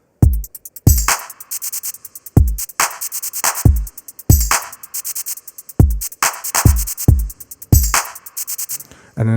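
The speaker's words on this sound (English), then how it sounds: "if we listen to the drums on their own, it sounds a bit like this." A grime beat's drum track plays on its own: loud, punchy kicks and snares with rapid rattling hi-hat rolls in a syncopated, stuttering pattern, close and dry.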